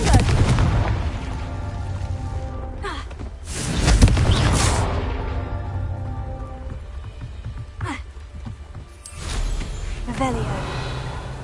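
Confringo blasting spell explosions in the video game Hogwarts Legacy: several heavy booming blasts, the loudest near the start and a couple more later, over continuous game noise.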